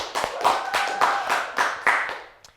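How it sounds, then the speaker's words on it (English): A short burst of applause for a school tennis team: a small group claps steadily, the claps slightly uneven, tapering off at the end. "Let's give our tennis team a big round of applause."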